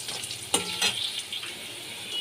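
Potatoes frying in a pan, with a steady soft sizzle and a couple of sharp scraping stirs, close and alone.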